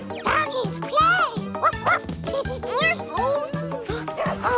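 A cartoon dog in a children's animated show barks in quick, bouncy, high yips and bow-wows. Lively child-like voices and playful cartoon sounds run alongside it.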